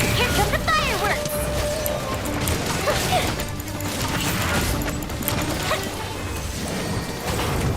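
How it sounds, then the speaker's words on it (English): Fireworks go off in the video game Genshin Impact as a quick run of crackling, clattering bursts under a mechanical rattle and game music, with a person talking over them. "Here come the fireworks!"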